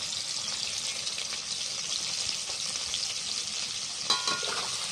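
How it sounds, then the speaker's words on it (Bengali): Ground spice paste, turmeric and chopped tomato sizzle steadily in a hot pan for a mung dal ghonto with ridge gourd, a close and even frying hiss with a brief stirring clatter near the end. "দিয়ে দিচ্ছি বেটে রাখা মশলাটা দিয়ে দিচ্ছি হলুদ গুঁড়ো"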